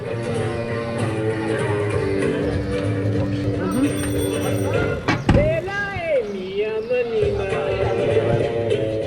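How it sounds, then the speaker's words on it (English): A Barcelona bike bus of children cycling to school rolls along a street. Excited young voices shout and chatter over bicycle and traffic noise, with a sharp clatter midway. "And this is the sound of a bike bus in Barcelona."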